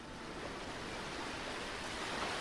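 Steady broadband wash of ocean surf breaking on a sandy shore at sunset, soft and continuous with no distinct wave crests, heard alone without voices.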